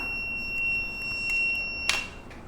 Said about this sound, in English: the buzzer will turn on and we get the notification flame detected